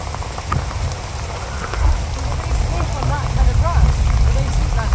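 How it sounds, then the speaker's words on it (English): Heavy rain pours onto the Kinabatangan River in Malaysia, a dense steady hiss with scattered drops; voices can be heard faintly under the downpour. "It is really raining now."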